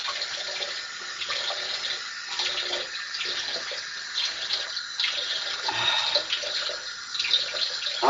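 Water steadily pouring and hissing over stubborn burning embers in an outdoor fire, a continuous close rushing sound with no talk over it.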